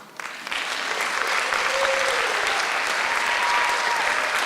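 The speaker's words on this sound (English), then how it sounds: "Give them a big round of applause, please." An audience at a trail ambassador pageant applauds steadily, the clapping swelling within the first half second and holding loud and sustained to the end.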